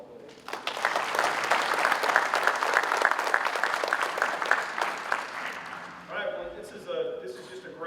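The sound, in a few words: audience applause at a sheriff's office awards ceremony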